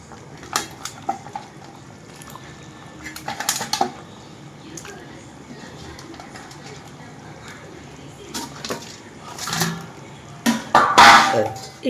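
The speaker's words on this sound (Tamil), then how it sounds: "மீனை சேர்த்துக்கலாம்." Fish pieces go into a pot of boiling fish curry, with scattered clinks and clatters of a pot and utensils, soft bubbling in the background and a louder cluster of clanks near the end, heard close up.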